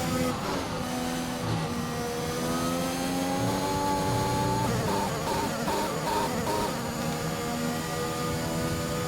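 A damaged F1 car in F1 2021 that has lost seventh gear whines and drones continuously, with a layered buzzing engine note that wavers in pitch as it runs on, loud and close and heard alone.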